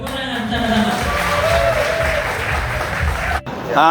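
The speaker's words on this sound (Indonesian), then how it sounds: "Tepuk tangan sama-sama." A crowd claps loudly amid general hubbub and voices, the noise dipping briefly before a voice cuts in at the end.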